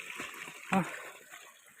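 Water of the Hetarung stream flows beside a rough hillside path: a steady close rush and trickle, with one brief splash partway through and no talk.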